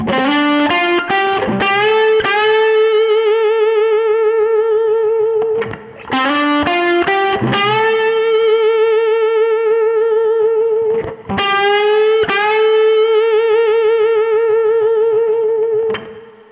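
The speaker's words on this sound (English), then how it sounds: "One of the most important sort of blues or rock bends is like the 4th to the 5th scale degree." Distorted electric guitar plays a bluesy phrase, notes bending upward from the fourth to the fifth scale degree and sustaining, in three loud repeated passes with brief gaps, no talking.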